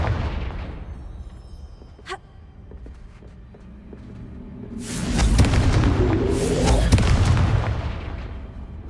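A Confringo blasting curse explodes in the Hogwarts Legacy video game, a sharp crack followed by a heavy, sustained rumbling blast with debris noise, loud and close.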